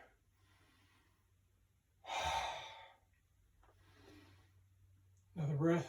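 Two loud breaths come during a yoga exercise in a gym class, one sharp and drawn out in the middle and another near the end, separated by quieter, fainter breathing over a low hum.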